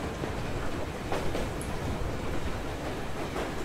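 A train ride in the video game Metro Exodus, a steady rumbling rolling noise with faint rhythmic clatter, continuous and fairly loud with no voices.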